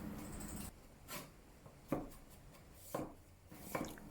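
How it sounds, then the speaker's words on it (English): Butter mushrooms being sliced with a knife on a board, four or five distinct, fairly quiet cuts spaced about a second apart, with no voice. "Slice some butter mushrooms."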